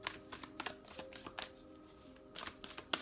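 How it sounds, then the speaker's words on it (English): A deck of tarot cards is shuffled up close in a quiet room, with repeated riffling bursts and soft clattering slaps in an uneven rhythm. "that was not a good shuffle"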